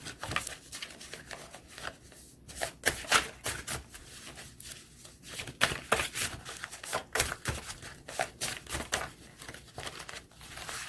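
Tarot cards shuffled by hand during a card reading, a quick run of crisp riffling and papery flicks in uneven bursts, close and fairly quiet with no talking.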